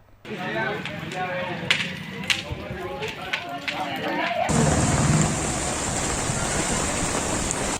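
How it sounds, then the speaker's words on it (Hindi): Heavy rain driven by strong winds in Gujarat as people try to hold a Holika Dahan bonfire; talk runs over the downpour at first, then a dense, steady roar of rain and wind carries on alone. "तेज हवाओं के साथ बारिश शुरू हो गई।"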